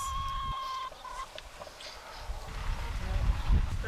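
Chickens cluck on a farm near pigs, with several short, close clucks and calls over a rough outdoor background that swells toward the end.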